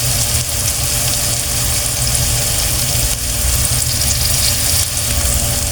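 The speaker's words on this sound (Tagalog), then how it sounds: "Pag golden brown muna natin para mabango at isangkot siya natin yung pusit" Squid sizzles and fries steadily in a hot pan for adobong pusit, a continuous loud hiss with no breaks and no talk.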